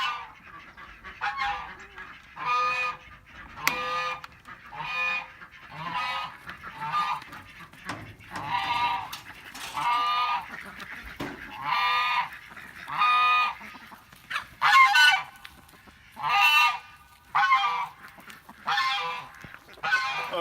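A newly arrived goose honks repeatedly in loud, harmonic bursts spaced every second or so, close to the listener, with a few softer calls between and no talking over it.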